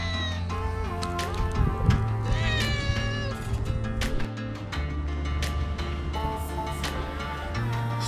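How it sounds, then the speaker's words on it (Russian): Cat basking in the sun outside an old five-storey panel apartment block in Baikonur, meowing repeatedly at close range over steady outdoor background noise. "А пока вот тут на солнышке греется вот такой кот"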